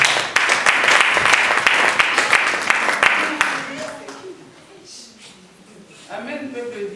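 Church congregation clapping together at a consecration service, a loud, dense, rhythmic applause that fades after a few seconds as a voice carries on speaking over and after it.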